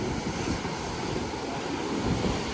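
Ocean surf breaking continuously at a beach where someone wades into the waves, a loud, steady wash of rolling water with some wind buffeting the microphone and no voices.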